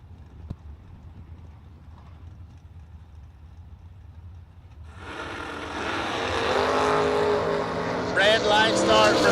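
Scott Hessler's 69 Camaro making a drag race run, starting with a quiet lull before the engine bursts into a loud, rising roar about halfway through that keeps building and peaks near the end.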